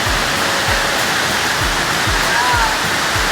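Loud, steady rush of a river through a rocky canyon, roaring like a waterfall, a dense, unbroken wash of water noise throughout.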